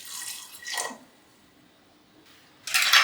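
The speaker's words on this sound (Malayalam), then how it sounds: "കുറച്ചുകൂടി ഒഴിച്ച് കൊടുക്കുന്നുണ്ട്." Water poured into a cooking pot for a green gram (cherupayar) curry, heard as short splashy bursts at the start and again at the end, with a quiet pause between.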